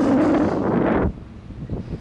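Strong wind buffets the microphone outdoors during a city walk near new housing construction, a loud rushing roar for about a second that suddenly drops to quieter gusting.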